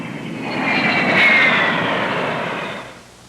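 A Convair F-102 jet roars low over a tight boundary course. The engine noise swells to a loud peak as the jet passes close by, then fades away over about three seconds.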